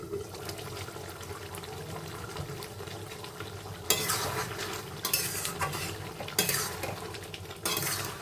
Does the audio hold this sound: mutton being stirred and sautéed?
yes